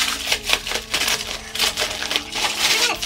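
Sticky bubble wrap is peeled and crinkled off a beer glass up close, giving a steady run of crackling, rustling plastic bursts with no talking.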